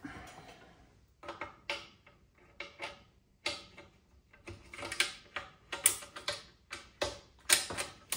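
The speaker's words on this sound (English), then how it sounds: "The bolt closes on that one" A rifle bolt is worked and closed on a headspace gauge in the chamber, giving a run of sharp metallic clicks, slides and ratcheting clacks, close and fairly quiet with no voices.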